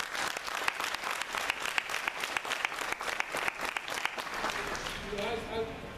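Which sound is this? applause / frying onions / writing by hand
applause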